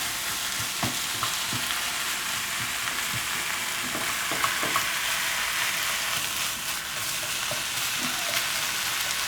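Ground beef sizzles and fries steadily in a pan for shepherd's pie, a continuous crackling hiss with occasional sharper pops and light stirring scrapes, close and fairly loud with no talking.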